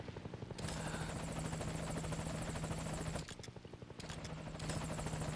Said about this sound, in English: And there's the chopper.